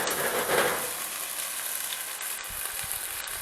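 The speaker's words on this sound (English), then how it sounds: "So now we're going to deglaze our pan. A little bit of white wine." Sweet white wine hits a hot pan of seasoned chicken for deglazing, bursting into a loud, steady sizzle and hiss that slowly settles, with faint clinks of a utensil.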